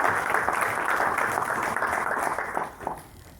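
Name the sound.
audience applause for design thinking attendees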